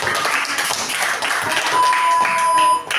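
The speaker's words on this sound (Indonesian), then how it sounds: "Tepuk tangan." Children in a classroom clapping together after a light reflection experiment, a light patter of hand claps over roomy background noise, moderately near, with a faint tone at one point.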